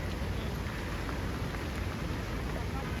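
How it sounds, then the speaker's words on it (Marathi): Heavy rain pours down in hill country during the monsoon planting season, a dense, loud, unbroken hiss of drops with no pause. "किती पाऊस डोंगरात बघा पाऊस भरपूर पडते"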